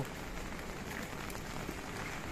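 Steady heavy monsoon rain in Konkan patters on a surface, a dense, even hiss of drops close by with no voices.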